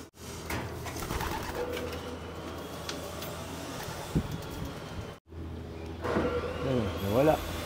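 Pigeons at a backyard loft aviary coo softly and steadily under constant outdoor background noise, with a brief quieter gap midway and voices talking nearby.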